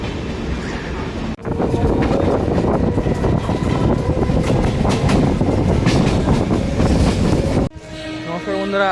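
The Rajdhani Express on the Sealdah–New Delhi route thunders past at close range with loud rumbling and rhythmic clatter. The roar cuts off abruptly near the end, and a voice is heard briefly after it.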